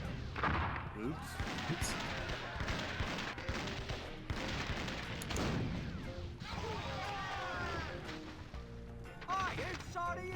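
Gunfire in The Curse of Monkey Island, a pirate adventure game, cracking out as sharp repeated bangs and thumps mixed with clattering impacts, with voices talking and exclaiming over the noise throughout.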